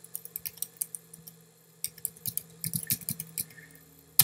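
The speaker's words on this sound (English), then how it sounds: "Let's type this in." Someone types on a computer keyboard close by, with irregular bursts of crisp key clicks, a short pause and then a faster flurry of taps, alone in a quiet room.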